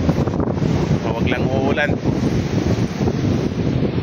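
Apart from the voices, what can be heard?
wind at the seashore with waves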